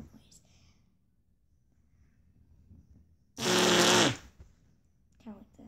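A voice imitates a fart with a loud, buzzy blast lasting under a second, standing alone amid near silence, with faint murmurs before and after.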